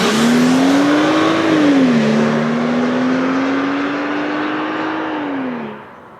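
A 2013 BMW X1 xDrive 35i pulls away with a loud, close engine note that climbs through the revs, drops briefly at a shift, then holds a steady drone before fading out.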